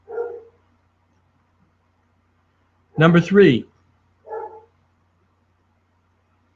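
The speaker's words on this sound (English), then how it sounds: "my dog is barking." A dog barks twice, a short sharp bark near the start and another a few seconds later, moderately loud and indoors-sounding, with a man's brief speech between them.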